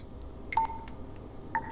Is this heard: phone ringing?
yes